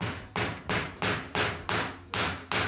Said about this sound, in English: Now I'm just going along and hammering in these nails on all those points I marked.